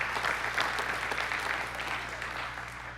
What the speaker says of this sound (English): It is, go ahead and applaud